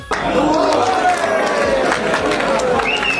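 Stadium crowd at an Independence Day football final, loud and close, with dense clapping and chanting voices surging through the whole stretch, swelling cheers throughout.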